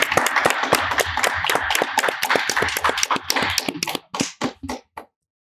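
An audience applauds a guest at a live talk show, a dense burst of clapping that thins into a few scattered claps and then falls silent.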